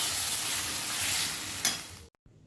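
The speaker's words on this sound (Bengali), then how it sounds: "এবার দিয়ে দিলাম মশলাটুকু, মশলাটা দিয়ে ভালো করে কষিয়ে নেব" Vegetables sautéing with spices in a pan, a loud, steady sizzle with a brief stir that cuts off abruptly near the end, leaving faint quiet clatter.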